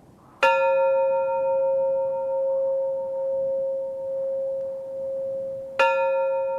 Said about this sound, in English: each pilgrim rings the bell upon arriving at the summit